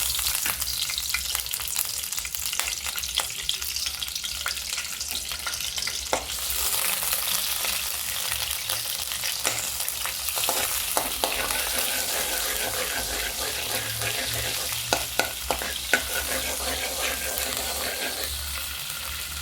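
Ingredients for paneer do pyaza sautéing in a hot pan, a continuous loud sizzle with repeated scraping and clacking of a spatula as they are stirred, close up.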